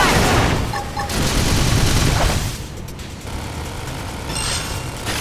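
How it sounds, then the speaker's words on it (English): Dense, continuous gunfire in Xenoblade Chronicles X Definitive Edition, with booming impacts and rumbling effects, loud and busy throughout, briefly easing before picking up again. "Topple them with some gunfire!"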